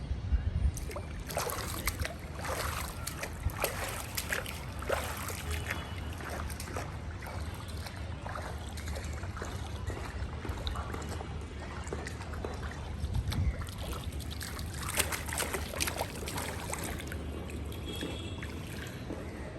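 A boat moves across water, with steady sloshing and intermittent splashes against the hull over a low background hum.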